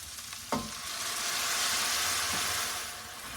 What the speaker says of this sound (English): what we're going to do is now use the white wine to deglaze.